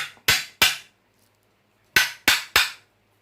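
A hammer strikes a metal plate onto a Cub Cadet 102 engine block: two sharp, loud metallic blows, a pause, then three more in quick succession, close and distinct.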